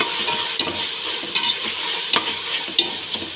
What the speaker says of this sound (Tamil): இதையும் நல்லா கலக்கி விட்டுருங்க. ஒரு 1/2 நிமிஷம் கலக்கினா போதும்.